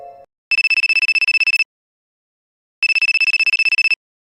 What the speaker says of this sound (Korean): 내 핸드폰이 울렸다.